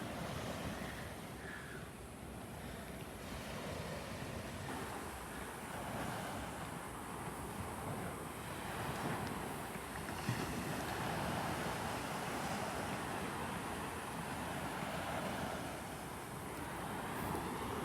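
Ocean waves washing onto the beach at Delnor-Wiggins, heard through trees as a soft, continuous surf roar with gentle swells and some wind buffeting the microphone, distant and quiet, with no voices.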